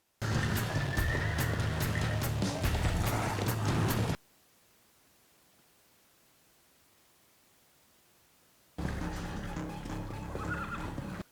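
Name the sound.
horses neighing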